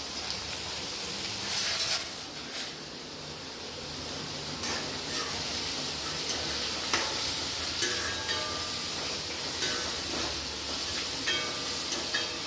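Onion, curry leaves, green chili and garlic sauté in hot oil for a Tirunelveli-style goat blood fry, giving a steady close sizzle broken by occasional stirring scrapes, with no one talking.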